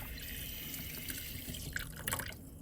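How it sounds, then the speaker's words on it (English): Salted codfish is rinsed under a running tap, a faint steady splash of flowing water with a few drips and splatters toward the end, no voices. "We're gonna be rinsing the bacalao and take all the salt"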